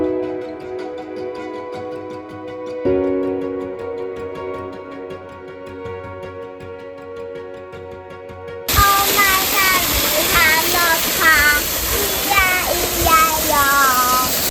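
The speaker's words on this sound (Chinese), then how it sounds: "這裡有一個小瀑布，站在這裡就可以感受到大自然的瀑布 SPA 水療。" After a stretch of music, a small waterfall beside a steel hiking boardwalk gives a loud, steady rush of falling water, with a voice talking over it.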